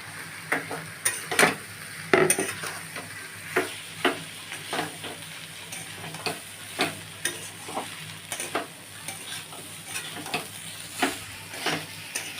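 Thick flattened rice fried and stirred in a pan, a soft continuous sizzle beneath regular spatula scrapes and taps recurring roughly every second, close and moderately quiet.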